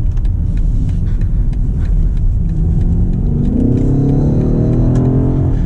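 A 2023 BMW XM SUV's engine rumbles loudly and then revs up, pitch rising steadily as it accelerates hard, with no one speaking.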